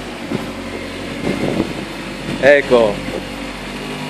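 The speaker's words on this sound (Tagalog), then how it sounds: "Ecco si Jeffrey, la Toyota Celica mio," A Toyota Celica pulls out of a garage, its engine a low, steady idling hum under a voice, with a brief louder burst partway through.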